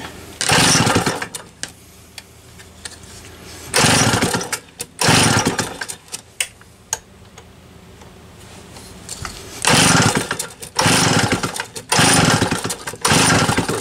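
Small engine fitted with a Tillotson HL-63A carburetor pulled over and catching, giving several loud, rough buzzing bursts of running that cut out between pulls, close up with no talk.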